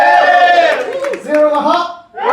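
A live audience at a Star Trek versus Star Wars debate cheers for Spock with a burst of overlapping shouts and voices that dips briefly near the end, then rises again.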